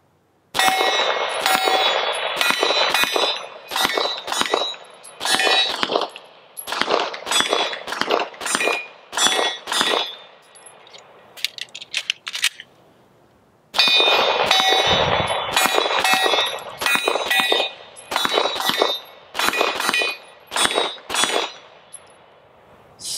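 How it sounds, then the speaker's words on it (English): Pistol shots hit steel targets about 10 yards away, sharp cracks each followed by a ringing metallic clang, fired in quick strings with a short quiet pause in the middle. "do a little shooting on the RMR. Got some steel targets set up again"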